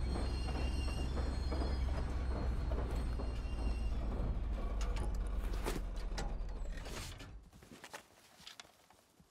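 A train in the survival video game Rust rumbles past with a loud, steady low roar and rattling wheels, then fades away over the last few seconds, with no talking.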